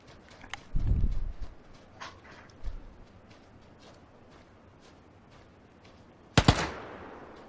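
Uzi gunfire in PUBG, a few short bursts of rapid shots scattered at mid distance, with a louder sharp burst near the end fading into an echoing tail over quiet background.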